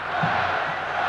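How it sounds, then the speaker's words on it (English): An arena crowd at the 1986 NBA Slam Dunk Contest in Dallas gives a brief burst of massed voices, a loud rumbling roar that swells and holds through the moment. "as the crowd chants Spud"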